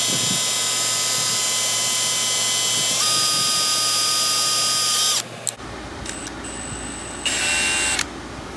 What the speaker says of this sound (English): We'll go ahead and drill the second hole out.